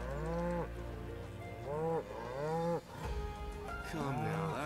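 A cow in the video game Final Fantasy VII Rebirth gives three or four long, loud, close moos in a row, each one swelling and falling away, with no talk over them.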